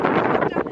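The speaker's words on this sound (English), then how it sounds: "It's a bit windy." Wind buffets a microphone outdoors at a tent campsite on a farm, a loud, close rumbling gust filling the short moment.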